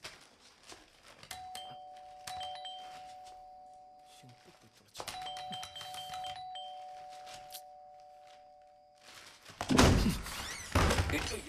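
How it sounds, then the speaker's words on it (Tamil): An electronic doorbell chimes twice, each with a sustained ringing tone, amid thuds and some background noise, then a burst of louder commotion. "காலிங் பெல் சத்தம் கேட்கல?"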